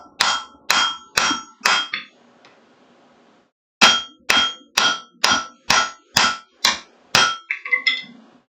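Heavy hammer blows on hot metal at a blacksmith's forge ring out as loud, bright clangs: a quick run of about five strikes, a short pause, then a steady series of roughly nine more, with no talking.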